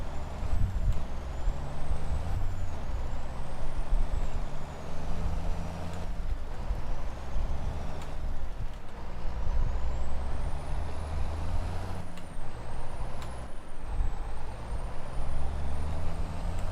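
Truck engine rumbling steadily with repeated air brake hisses and faint reversing beeps, inside the video game Farming Simulator 22; loud and continuous with no talking.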